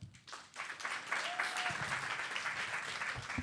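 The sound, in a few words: audience applause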